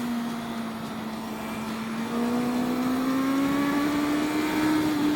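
A motorcycle engine runs steadily while riding, its droning note slowly climbing in pitch as it pulls, loud and close with constant road and wind noise underneath.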